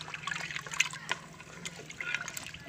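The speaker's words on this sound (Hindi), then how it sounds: "और अब इसमें पानी डाल देते हैं" Water poured from a glass into a cooking pot of goat trotters for village-style mutton paya, a soft trickling splash that rises and falls for a few seconds at moderate level, with no voices.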